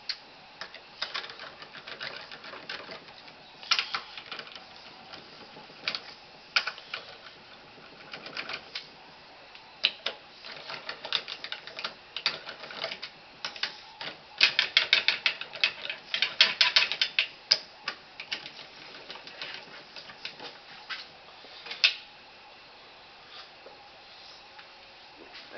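A hand ratchet clicks in quick runs while torquing down the valve body bolts of a transmission being rebuilt, with pauses between bolts and faster, denser bursts midway, close up and bright.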